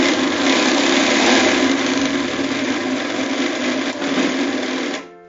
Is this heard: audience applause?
no